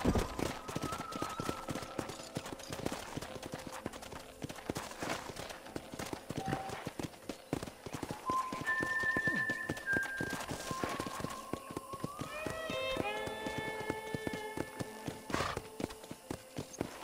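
Horse hooves clip-clop and gallop in Red Dead Redemption, rhythmic hoofbeats at moderate distance with a few tonal music or effect lines layered above.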